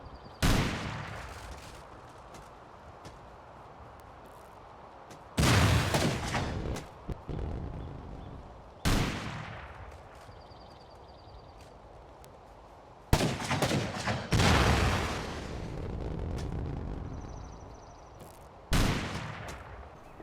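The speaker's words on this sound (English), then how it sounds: "There is some gunfire going on here" Gunfire in an attackers versus defenders match around a bunker, loud bursts of rapid shots in several long volleys separated by quieter stretches of distant crackle.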